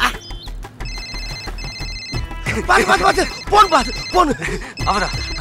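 A telephone bell rings in repeated bursts over a low rhythmic thumping beat at a film comedy scene, with a voice talking loudly over the ringing in the later part.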